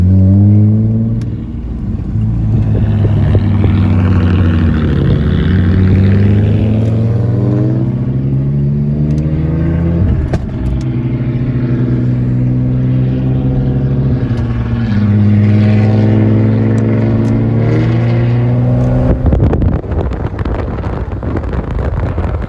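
A manual-swapped Nissan Maxima revs hard on a Florida street, its engine climbing and dropping through repeated pulls at close range with wind buffeting the microphone and brief crackling exhaust pops between revs.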